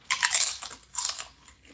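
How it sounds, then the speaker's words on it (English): A chip crunches between the teeth in two quick, crisp bursts of close chewing, sharp and bright, with a faint trailing crackle. "Probably that chip did not crunch all the way down."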